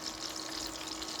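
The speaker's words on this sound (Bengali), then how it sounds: "ওইটা ভাজতেছি" Ingredients for biryani fry in hot oil in a pan, a continuous close sizzling hiss without any talk.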